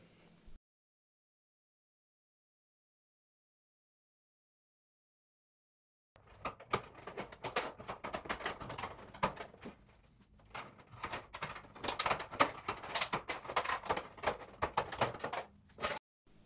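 Corrugated metal roofing cut with ordinary household shears while building a raised garden planter box: after a silent stretch, close, steady crunching snips and scraping metal run for about ten seconds, with no talking.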